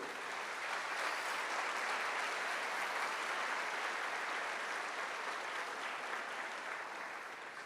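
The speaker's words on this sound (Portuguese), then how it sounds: "Dá um aplauso lindo para o Senhor." A church congregation applauds together in a steady, dense wash of clapping that holds evenly throughout and eases slightly at the end.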